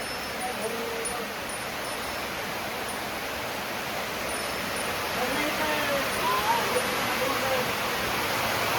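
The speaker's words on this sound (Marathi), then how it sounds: "येऊ द्या पाऊस येऊ द्या" Rain falling at a rural home, a dense, continuous broadband hiss that swells slightly louder toward the end, with faint sounds underneath.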